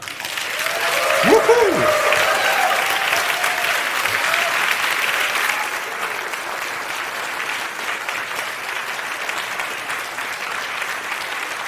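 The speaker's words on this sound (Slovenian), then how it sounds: "Zdaj pa res lahko damo en tak navdušen aplavz ob začetku filmskega festivala." Sustained audience applause fills an opening ceremony of a film festival, loud and dense for the whole stretch, with a brief whistle or cheer near the start before the clapping settles into a steady wash.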